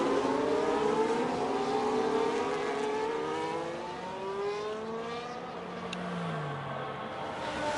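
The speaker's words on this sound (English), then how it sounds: "Does make a nice sound, that car." A race car engine in the iRacing sim, recorded at the Netherlands round, revs and changes gear, with rising and falling whining engine tones that gradually fade into the distance at moderate loudness and no talk.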